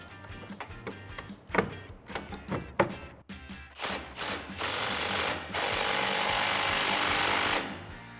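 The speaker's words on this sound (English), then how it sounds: "Grab your 14 millimeter socket and tighten it down." A ratchet with a 14 mm socket tightens the sway bar end link bolt on a 2006-2018 RAM 1500 4WD, giving a series of uneven metallic clicks and knocks before a steady loud whirring stretch near the end.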